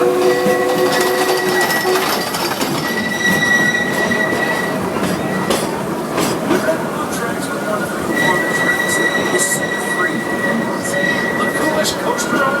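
A train ride at Six Flags Over Texas rumbles loudly and steadily on the tracks, with high wheel squeals drawn out over the clatter and voices faintly underneath.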